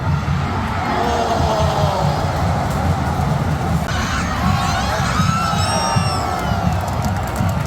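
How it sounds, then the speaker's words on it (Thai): Thai football fans cheer loudly in a packed stadium during Thailand's national team match, making a dense, continuous roar of shouts and whoops that stays close and strong throughout. "เสียงเชียร์ดังมากตอนนี้"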